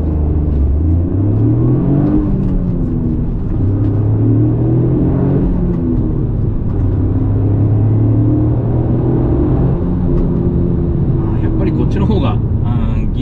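A Lexus LBX MORIZO RR driven on a circuit in circuit mode with strong anti-lag, heard from inside as a loud engine drone that climbs and drops repeatedly through acceleration and gear changes.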